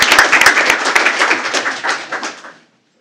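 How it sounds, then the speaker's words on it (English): Applause breaks out for students being honored at a school board of trustees meeting, starting with sharp, dense clapping up close that thins out and stops after about two and a half seconds. "Let's give these guys a big round of applause and send them around as well."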